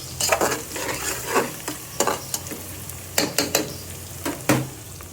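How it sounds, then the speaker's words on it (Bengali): Vegetables fry in a pan with a steady sizzle while a utensil stirs and scrapes them in quick, irregular strokes, close and moderately loud, with no talking. "একটু ভাজা ভাজি হোক"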